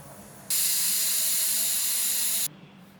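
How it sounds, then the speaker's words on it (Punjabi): A pressure cooker whistle vents steam while a milk-based vegetable curry cooks: one loud, steady hiss lasting about two seconds, starting and cutting off abruptly. "ਹੁਣ ਆਪਾਂ ਇੱਧਰ ਕੁੱਕਰ ਦੀ ਵਾਜਦੀ ਆ ਸੀਟੀ"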